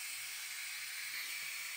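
A pressure cooker cooking chicken gizzards vents steam in a steady, fairly faint high hiss that runs without a break for a couple of seconds.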